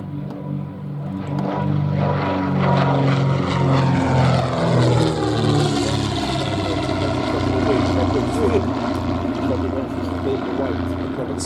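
A propeller aircraft at an air festival comes in to land, its engine drone loud and close with a smooth pitch shift as it passes, while a commentator speaks over it.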